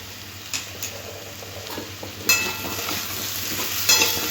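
Spices being stirred into pumpkin curry in a pan, with a steady soft sizzle and scraping strokes of a spoon, a few louder clanks standing out, no voices.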